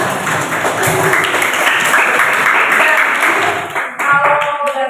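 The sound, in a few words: applause, clapping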